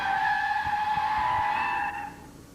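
Volkswagen car braking hard, its tires giving a sustained tonal squeal for nearly two seconds before cutting off, loud and close, leaving a faint low rumble.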